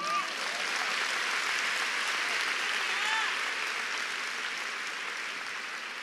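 Steady applause from a church congregation, dense and sustained throughout without pause, with faint higher tones mixed in.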